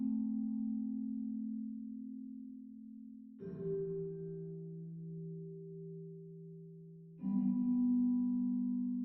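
A vibraphone with its motor switched off, so notes ring with no vibrato or tremolo: three struck tones, the first sustained, then a two-note chord entering around mid-clip and another strike near the end, steady and fairly soft.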